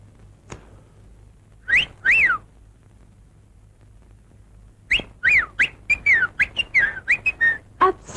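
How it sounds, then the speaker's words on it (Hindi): A man whistles a bright, melodic tune in a 1960 Hindi film scene, with two short phrases early on, a pause, then a quick run of rising and falling notes, clear and close. "आप सीटी बहुत अच्छी बजाते हैं।"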